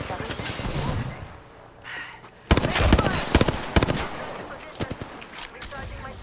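Rapid bursts of video game gunfire in Apex Legends, quiet at first and then loud, clustered cracks from about halfway through, with a dense background of in-game sounds.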